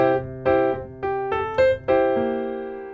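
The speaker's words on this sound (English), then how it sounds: "a brief pickup note in the thumb of my left hand, 1 octave above the C bass note" Piano chords struck in a steady pattern, with a very quick, subtle left-hand pickup note an octave above the C bass note slipped in just before one chord; clear and close, no talking.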